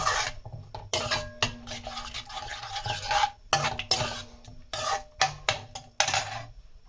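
A spoon scraping and clinking against a pan while spices and curd are stirred together over a medium flame, with irregular rubbing strokes and metallic taps, close and moderately quiet.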